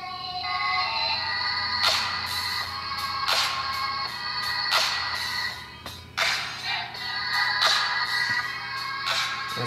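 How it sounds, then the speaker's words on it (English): Custom ringtone on an iPhone 4 playing repeatedly from the phone speaker, a bright chiming phrase recurring in regular bursts about every second and a half, clear and close with no voices. "And there you go, you got your ringtone."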